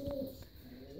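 Pigeons or doves cooing near their nest, a soft low coo close by over faint background hiss.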